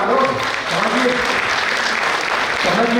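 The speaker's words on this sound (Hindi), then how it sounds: "अब तो ताली बजाइए आप लोग" At an election campaign office inauguration, an audience claps loudly and steadily for the whole stretch, a dense crowd applause with voices faintly mixed in.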